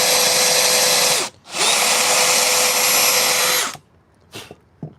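Power drill with a 5/8-inch fastener bit boring into reclaimed wood, two sustained loud whirring runs of about a second and two seconds with a brief gap, then a short tail of handling noise.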